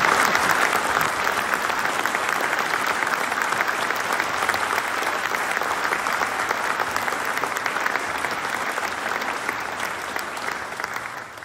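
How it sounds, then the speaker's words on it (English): Warm, sustained applause from a concert audience in the Sheldonian Theatre for a young organist, a dense, steady wash of clapping that fills the hall and holds at an even level throughout. "encouraging clap"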